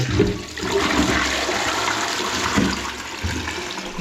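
A toilet flushes in a newly fitted shower room, a loud, steady rush of water lasting the whole stretch with small surges, up close and without talk.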